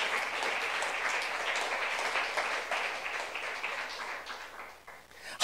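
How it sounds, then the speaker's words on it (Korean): A church youth-service congregation applauds steadily for about five seconds, a dense even patter of many hands that fades out near the end before a sharp sound cuts in. "박수며 하나님께 영광 돌리시기 바라요"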